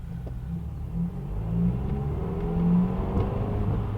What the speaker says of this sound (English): we're gonna put the car in first gear and we're gonna start driving